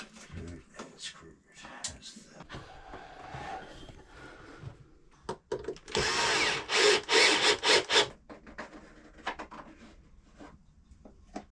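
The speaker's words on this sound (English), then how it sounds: "We are cutting the floor now" A saw rasps through a wooden floor panel being fitted for a nav table on a Freedom 28 sailboat, a few seconds of loud close cutting strokes amid quieter knocks and handling, with a voice speaking at times.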